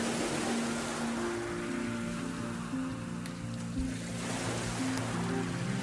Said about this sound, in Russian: Волны растворяют соль и смывают песок